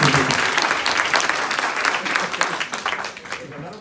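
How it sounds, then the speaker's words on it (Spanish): An audience in a spiritual gathering bursts into sustained applause, loud and dense clapping throughout that tapers slightly toward the end, with a voice briefly audible underneath. "Un aplauso para el hermano José."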